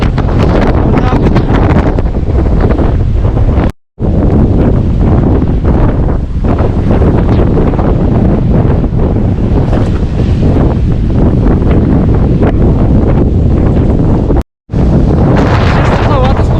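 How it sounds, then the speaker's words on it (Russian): Strong continuous wind buffeting the microphone by the ocean, a loud unbroken roar with surf underneath and two brief dropouts, a voice faintly mixed in. "Ветер вздувает, он непрерывный. Непрерывный ветер."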